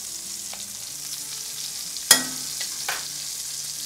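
Pheasant fries in a pan with a steady, close sizzle, broken by one sharp clatter and a couple of softer knocks, likely a utensil against the pan; no one talks.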